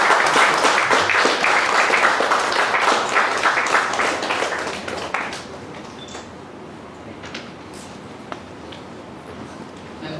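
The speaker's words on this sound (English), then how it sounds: "Can we have a big round of applause to the speaker?" An audience at a tax seminar applauds a speaker, with dense clapping that holds loud for about five seconds, then thins out and fades into scattered claps and quiet room noise.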